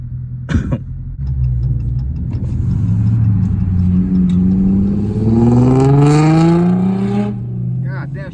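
Dodge SRT engine revs hard while driving in Dallas, a deep close rumble climbing steadily in pitch through the gears before easing off, loud and rough, with a short cough-like burst at the start.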